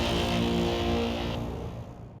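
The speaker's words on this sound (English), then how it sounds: "the wah car horn up for grabs" A novelty "wah" car horn from Forza Horizon 4 blares in one sustained, loud, harmonic tone lasting about two seconds, slowly fading at the end with no talk over it.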